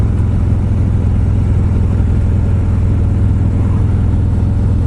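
A 2018 Harley-Davidson Road Glide motorcycle riding along winding roads around Roswell, Georgia, a loud, constant, low engine rumble mixed with wind roar, steady with no breaks.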